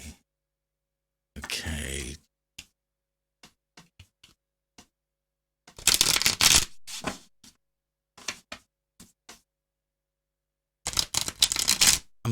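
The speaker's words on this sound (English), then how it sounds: "Let's really shuffle these good." Tarot cards are shuffled vigorously in short riffling bursts, loud and close, separated by quiet gaps with scattered soft taps and card clicks.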